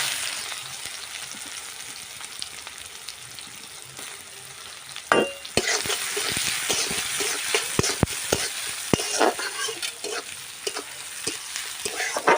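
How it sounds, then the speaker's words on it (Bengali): Chopped onions hit hot oil with whole garam masala in a pan, giving a loud continuous sizzle, with frequent sharp stirring clatters and scrapes from the midpoint on. "পেঁয়াজটাকে একটু হালকা লাল লাল করে আমি ভেজে নেব।"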